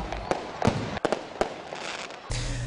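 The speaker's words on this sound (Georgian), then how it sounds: "აკაკიობა და საჩხერლობა 2015 გრანდიოზული ფეიერვერკით დასრულდა." Fireworks end the Akakioba and Sachkhereloba 2015 festival, sounding as a rapid irregular series of sharp cracks and pops at moderate distance, followed by a low sustained rumble.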